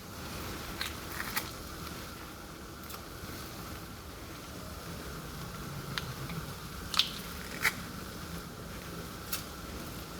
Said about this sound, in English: Now we're gonna mince 3 more cloves of garlic into this.